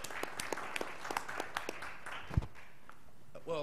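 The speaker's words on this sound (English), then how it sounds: "I hope you'll all join me in giving him a round of applause as he moves on." An audience at a planning board meeting claps in a round of applause, a series of distinct hand claps at moderate distance that thins out toward the end, with a voice starting up just after.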